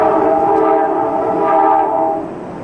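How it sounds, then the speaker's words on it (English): A train rumbles loudly and close across the Hell Gate Bridge in New York, its horn sounding in a sustained, chord-like blare that fades toward the end. "trains bound for New England still cross the great Hellgate Bridge"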